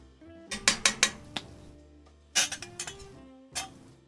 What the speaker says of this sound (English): do want to make sure I take time to give this some stirring.